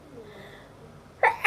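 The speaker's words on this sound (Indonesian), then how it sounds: "Udah mulai nih bersin-bersin." A single sharp sneeze from a person with a cold bursts out near the end, loud and close after a stretch of quiet room tone.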